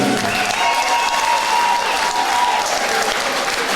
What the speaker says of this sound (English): Ladies and gentlemen, keep your appreciation and applause going for his opponent, Alexander Townsley.